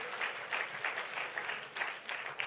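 Applause from an audience at a church youth camp, a steady patter of clapping with rhythmic bursts, moderately distant and fairly faint.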